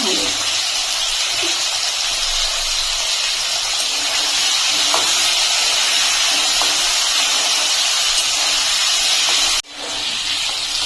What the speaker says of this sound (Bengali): আলু আর কাঁঠালের দিকে একটু ভেজে নেবো